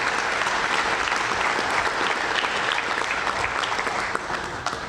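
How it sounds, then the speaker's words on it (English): A press conference audience at a firehouse ribbon cutting breaks into steady applause: dense, even clapping that holds for several seconds and eases off slightly at the end. "let's give Mitchell Brown a round of applause for that decision"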